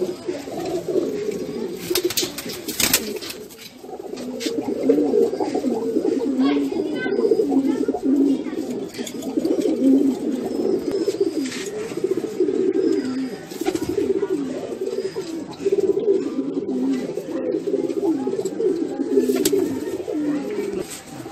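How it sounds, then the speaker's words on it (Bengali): Madrasi pigeons coo continuously in a loft, a dense layered murmur of soft throaty calls running throughout, with people talking nearby. "দাদার এটা হচ্ছে মাদি পায়রার লফট, আর ওটা হচ্ছে নর পায়রার লফট।"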